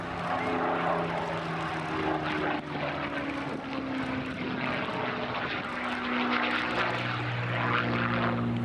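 A Spitfire MH434 with a Rolls-Royce Merlin engine flies at the Midlands Air Festival air show, giving a steady, loud propeller-engine drone that holds for the whole stretch with slowly shifting pitch.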